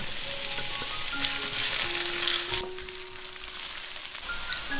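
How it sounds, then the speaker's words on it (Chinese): Garlic, dried scallops and shiitake mushrooms stir-frying in hot oil give a steady, loud sizzle throughout, with brief scraping of the stirring and a dip in intensity partway through. "接着把原贝跟香菇倒进来炒香"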